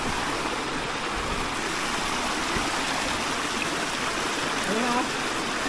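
A river stream near Tadtaran Falls rushes steadily, a continuous broadband flowing hiss filling the whole moment at moderate loudness, with a faint voice briefly audible.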